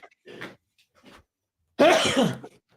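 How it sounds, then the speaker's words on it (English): A few faint breathy sounds, then a single sharp, loud sneeze bursts out close by, followed by quiet. "I sneezed on air."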